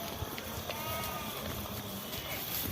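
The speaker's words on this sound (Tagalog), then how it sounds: "Tapos itong aming mga kambing. Ngayon ko lang sila nilabas." Faint goat bleats rise now and then over a quiet, cold rural outdoor background in Nepal, a few short wavering calls spread across the moment.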